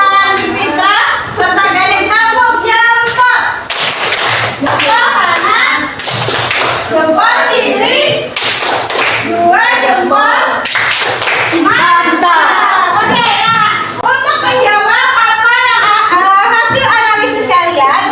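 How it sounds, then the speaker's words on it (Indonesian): Children clapping hands in a classroom during a lesson, loud rhythmic bursts of patterned claps repeating throughout, mixed with lively children's voices and chatter. "Neville, Gusti, Rizky, tepuk tangan untuk teman-temannya."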